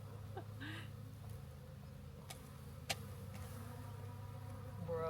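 Faint, low buzzing of honeybees at an open hive hums steadily, with a sharp click partway through.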